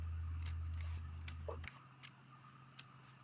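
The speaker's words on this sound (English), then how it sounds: "you're just slowly going to cut around the edge with your scissors like this" Scissors slowly cutting around the edge of a sheet of paper, a few soft snips and crisp clicks spaced unevenly, close and quiet, under a low hum that drops away partway through.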